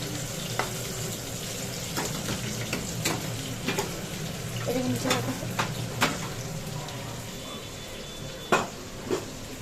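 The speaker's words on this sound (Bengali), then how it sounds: "এই যে আলুগুলিকে ভেজে নিচ্ছি" Potatoes frying in a pan for a thin katla fish curry, a steady close sizzle with occasional clinks and stirring knocks, no voices.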